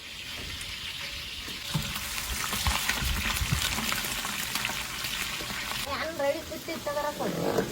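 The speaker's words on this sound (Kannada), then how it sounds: "ಎಣ್ಣೆಲಿ ಕರಿಬೇವು ಮೆಣಸಿನ್ಕಾಯಿ ಎಲ್ಲ ಹಾಕಿದಾರೆ ನೋಡಿ ಯಾವ ತರ ಸೌಂಡ್ ಮಾಡ್ತಾ ಇದೆ" Curry leaves and green chillies sizzle and crackle in hot oil at a camp cooking pot, a steady loud frying hiss with stirring toward the end and a voice talking over it.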